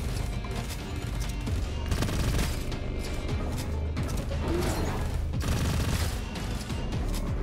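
Gunfire in the shooter game Gunfire Reborn, rapid repeated shots and mechanical weapon clatter in dense bursts, loud and sustained with brief heavier impacts.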